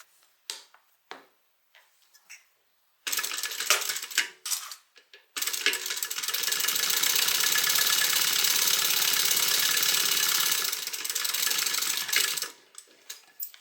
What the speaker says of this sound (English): So I'm stitching 1/8 inch away from the edge.